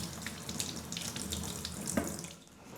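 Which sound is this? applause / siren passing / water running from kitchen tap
water running from kitchen tap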